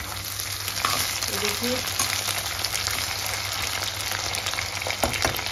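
Soya chunks and potatoes for a dry curry sizzle steadily in a pan on a medium flame, with a few scraping stirs partway through and a brief spoken word.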